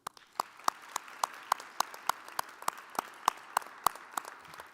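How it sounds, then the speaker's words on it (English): Applause at a GRCC 2021 commencement ceremony for an Arts and Sciences distinguished alumni award, steady rhythmic clapping from a modest crowd, fairly faint and distant, with no voices over it. "help me in honoring his memory and honoring a GRCC great with your applause for our Distinguished Alumni Award winner, Sekou Smith"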